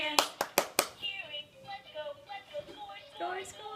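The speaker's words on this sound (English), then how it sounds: "Clapping your hands." A young child claps hands four times in quick succession, sharp close slaps, followed by an adult talking.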